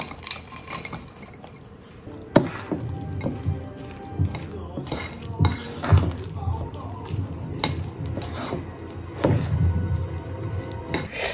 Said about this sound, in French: moi je vais directement mélanger mes fruits rouges à mon appareil avant de les mettre dans mon moule